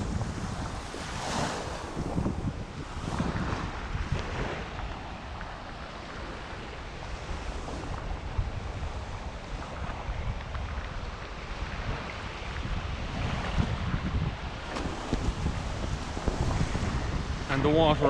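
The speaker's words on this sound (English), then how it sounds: "This is just the main beach out in the front of Alicante." Surf washing ashore on Postiguet beach, Alicante, Spain, a steady broadband roar mixed with gusts of wind buffeting the microphone, continuous and fairly loud throughout with a brief voice now and then.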